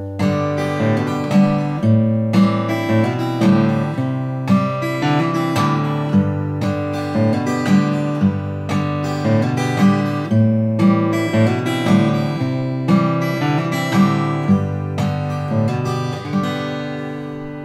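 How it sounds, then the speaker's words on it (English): Steel-string acoustic guitar plays a steady thumb-and-index-finger pattern with hammer-ons: an alternating bass thumps under a plucked melody in an even, rolling rhythm, bright, close and continuous, with no voice. "how to build in some hammer-ons into your thumb and index finger"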